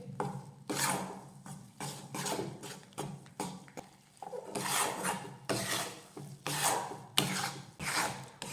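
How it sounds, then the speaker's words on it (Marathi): Wheat flour dough roasting on a low flame in a pan for modak, stirred with repeated scraping and rasping strokes against the metal, a steady close rhythm of bursts with brief pauses between them. "गॅस मोठा करायचा नाही तर मंद आचेवरच आपल्याला हे पीठ छान असं भाजून घ्यायचंय"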